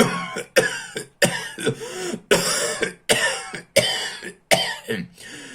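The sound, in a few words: cough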